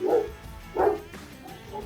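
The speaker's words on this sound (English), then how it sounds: "That's a big old dog there." A big dog barks from behind a fence in two deep, loud woofs about half a second apart, followed by a fainter third bark, with no talking.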